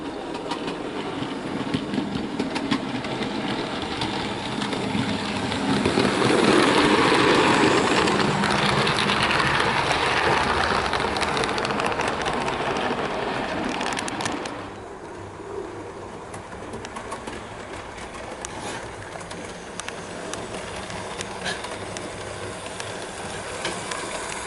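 A Bachmann SE&CR C Class model steam locomotive runs with coaches on a model layout, giving a low, continuous rolling rumble that swells midway and then settles to a quieter, steady running sound.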